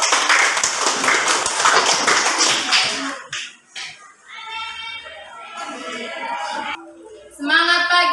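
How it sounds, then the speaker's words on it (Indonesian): A classroom group of schoolchildren claps for a student group, a dense burst of hand claps for about three seconds that then stops, followed by the children speaking in chorus. "Tepuk tangan untuk kelompok."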